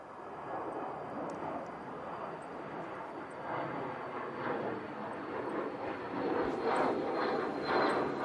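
An Emirates A380 airliner roars overhead during a go-around, a broad distant engine rumble that holds steady and swells slightly toward the end.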